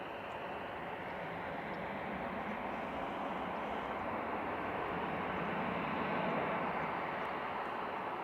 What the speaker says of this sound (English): Eurowings from Dusseldorf now. Flight 9340, A320 Classic 9H EWH.